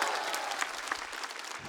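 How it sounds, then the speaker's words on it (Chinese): A stand-up comedy studio audience claps for the backstage staff, a brief burst of dense, steady applause with no talk over it. "我们把掌声献给他们幕后的工作人员"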